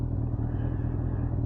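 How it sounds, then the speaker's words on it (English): A Yamaha XJ600 motorcycle engine idling: a steady, low, even throb with a regular pulsing rhythm, close and moderately loud, with no voices. "She's ticking over nicely, and she does actually even sound nice while she's ticking over."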